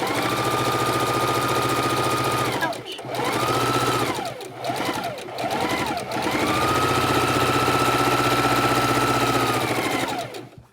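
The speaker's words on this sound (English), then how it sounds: "Straighten this block out and continue to sew." A sewing machine stitches a scrap quilt block in loud, close, steady whirring runs, broken around the middle by several short stop-start bursts before one long continuous run resumes.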